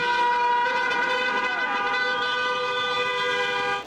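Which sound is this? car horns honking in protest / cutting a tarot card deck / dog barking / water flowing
car horns honking in protest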